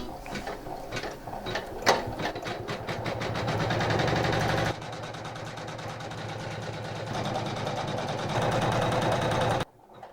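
A Janome Memory Craft 500e embroidery machine stitches a stop sign on felt in white thread, a fast mechanical needle rattle with a whirring drive that shifts pace partway through, running steadily and close before cutting off at the end.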